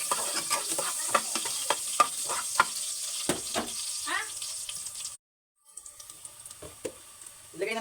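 Garlic and a little onion hit hot oil in a home kitchen pan, giving a crackling sizzle with stirring scrapes, a short silent break, then renewed frying and clatter.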